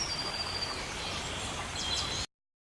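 Tropical rainforest ambience from a portable white noise machine, with steady broadband hiss under faint high bird calls and chirps, continuous and even throughout before cutting off abruptly.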